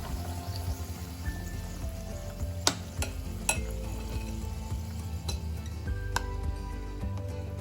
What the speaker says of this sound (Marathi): परत असा चमच्यामध्ये उचलून मग असं तेलामध्ये सोडायचं अलगद